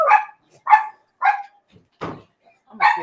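Dogs barking in a run of five sharp, loud barks spaced roughly half a second apart, close by, with one lower rougher bark in the middle and no talking.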